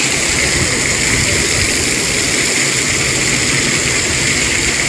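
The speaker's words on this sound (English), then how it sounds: "Okay, now the rain has gone down a bit." Rain falls over a forested area in Singapore, a dense, steady hiss of water with no letup and no voices.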